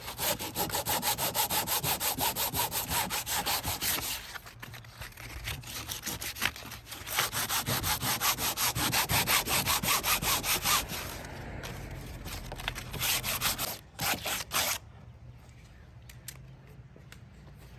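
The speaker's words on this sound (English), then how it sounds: "So I'm just kind of scuffing the edge up here." Someone scuffs the fiberglass edge of a VW dune buggy dash on a Meyers Manx project with rapid, rasping back-and-forth strokes. The dense, close scraping runs steadily, then slows into shorter bursts and stops near the end.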